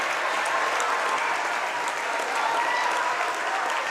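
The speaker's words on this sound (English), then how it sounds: "Down by 11 as the crowd gets excited." A crowd cheers and applauds at a high school basketball game between Martins Ferry and St. Clairsville. The dense, steady roar stays loud and close throughout, with no pauses.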